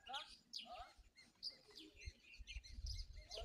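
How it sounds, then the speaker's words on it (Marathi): Several birds chirp and tweet in a quiet hillside setting, with quick, bright calls overlapping at a soft, distant-sounding level over a faint low rumble. "पक्ष्यांचा किलकिलाट, शांत वातावरण।"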